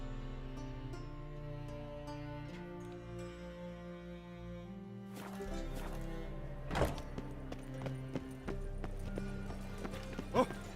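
Roach, the horse in The Witcher 3, clip-clops at a trot, hoofbeats starting midway over a game music bed, with a few louder thuds and a short whinny.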